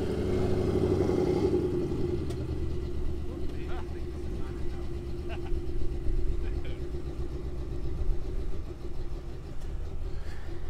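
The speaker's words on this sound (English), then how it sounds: "big engine, very low revolutions" A big engine rumbles steadily at low revs, deep and throbbing, with faint clatter and a few distant knocks over the idle.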